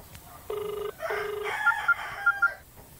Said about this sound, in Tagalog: nagaring ng cellphone ni Catherine